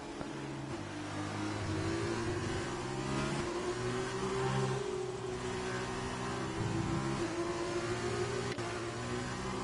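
Racing engine in an F2 esports video game at the Australian Grand Prix, revving steadily with rising and falling pitch as the car accelerates, loud and continuous for the whole stretch with no talk.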